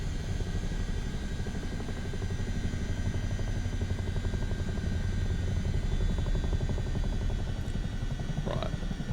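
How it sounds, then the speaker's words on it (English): A Chinook helicopter in MSFS 2024 drones with a heavy, rhythmic rotor thump under a steady, high transmission whine that stays loud and constant throughout, with a brief rising chirp near the end. "Interesting how the transmission whine really came up when I did that."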